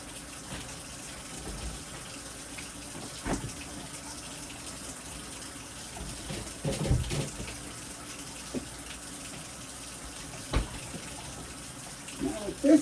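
Tap water running steadily into a container in a home kitchen, a soft continuous wash with faint clunks and knocks over it, a few louder bumps near the end.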